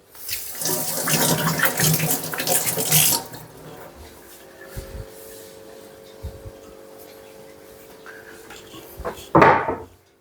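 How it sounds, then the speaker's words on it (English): Running tap water splashes loudly over hands at a kitchen sink for a few seconds, then stops, followed by quieter knocks and clatter of cupboards or drawers and a brief burst of water near the end. "Let me wash my hands again."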